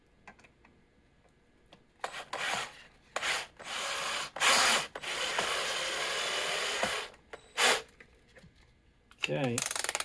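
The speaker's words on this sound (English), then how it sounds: "put the first screw in, not fully tighten it" Screws are driven into wood for a pop-up coffin prop, heard as several loud bursts of a whirring power driver, separated by quiet pauses, with a final rapid chattering burst.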